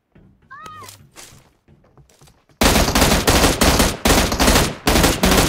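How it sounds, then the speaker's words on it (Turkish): Automatic gunfire in PUBG Mobile erupts after a quiet stretch with a short cat-like cry: loud, close, rapid rattling bursts repeating in quick volleys to the end. "Takır takır atıyorlar."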